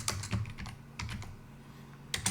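Quick keystrokes on a computer keyboard come in short, close clusters as a terminal command is typed, with a pause in the middle before a final burst of taps.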